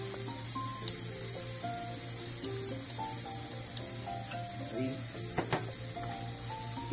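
Chicken sautéing with white onion and garlic in a pan, a constant even sizzle at moderate level with a few faint clicks of a utensil.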